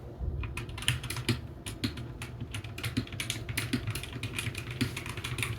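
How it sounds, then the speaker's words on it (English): Quick, light keystrokes tap on a computer keyboard in an irregular rhythm, close by and fairly soft. "I'm trying to type really quietly because I normally like bang away on it."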